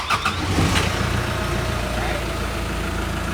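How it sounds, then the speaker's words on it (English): A forklift engine cranks and catches near the start, then settles into a steady rumbling idle, heard close and loud throughout. "I'm going to start the vehicle up."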